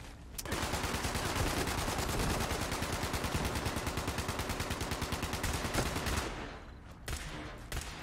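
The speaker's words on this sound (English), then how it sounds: "I'll take the Gatling gun." A Gatling gun in the video game Fallout 76 fires one long unbroken burst of rapid, loud shots for about six seconds, then stops and leaves a few scattered sounds.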